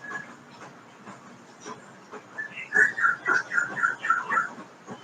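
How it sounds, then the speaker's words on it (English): Parrots outdoors give a run of shrill, whistling calls in quick succession, rising over a soft background hiss. "Maybe the parrots."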